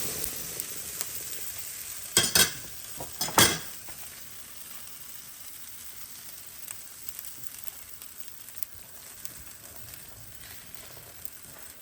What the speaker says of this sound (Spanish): Integramos todo y lo regresamos al sartén.